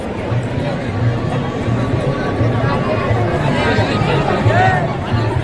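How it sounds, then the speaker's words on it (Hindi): Crowd chatter at the Chhattisgarh state festival, a dense, continuous babble of many voices close around, loud and steady throughout with a nearby voice talking over it. "भीड़ तो तबाही मस्त।"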